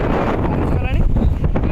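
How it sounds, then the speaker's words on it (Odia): Strong wind buffets a microphone outdoors in a village, a loud, continuous rumbling roar, with a voice faintly audible beneath it. "ଦେଖନ୍ତୁ ପବନ କେତେ ଜୋର ଅଛି, ଆପଣ ପବନକୁ ଅନୁଭବ କରିପାରୁଥିବେ"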